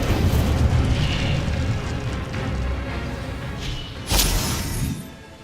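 In the Hogwarts Legacy video game, an Incendio fire spell erupts in a loud, dense roaring whoosh of flame that fills the scene, with a brief burst near the end.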